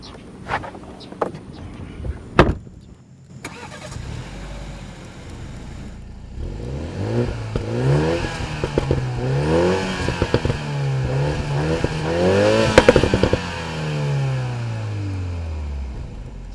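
A 2021 Toyota GR Supra 2.0 starts up and drives off, its engine rising and falling through several rev sweeps and gear changes, fairly loud, after a few sharp clicks and clunks.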